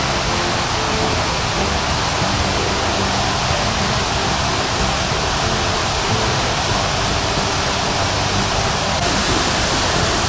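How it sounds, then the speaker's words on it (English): A continuous roar of falling water at Thommenkuthu waterfalls, loud and steady throughout, with no speech. "This is the second waterfall."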